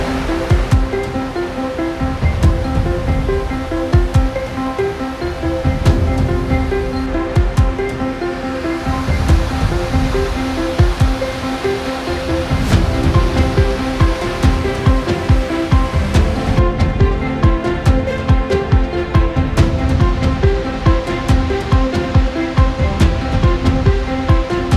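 Waterfall heard from above near where it begins, a loud, steady roaring rush of falling water that fills the whole stretch without pause.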